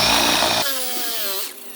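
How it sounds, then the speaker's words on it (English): A power drill with worn bits driving screws into new front gate posts in a garden, a brief burst of loud grinding followed by the motor's whine winding down, close and alone. "The drills falling apart on me."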